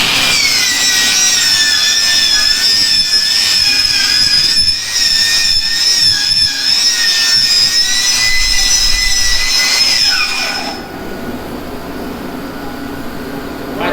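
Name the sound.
die grinder with wire wheel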